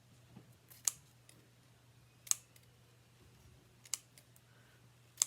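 Scissors trimming craft materials for a Halloween shadow box, four crisp snips spaced about a second and a half apart against a quiet, faintly humming room.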